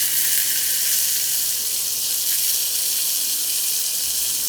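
Chopped tomato and ginger paste sizzle in hot oil with spices, a loud, steady close-up frying hiss running without a break for a few seconds.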